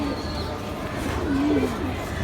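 Pigeons coo softly in a pigeon loft, a low warbling coo rising briefly beneath steady background noise and nearby talk.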